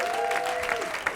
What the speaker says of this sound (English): If you can give him a huge round of applause for taking that leap.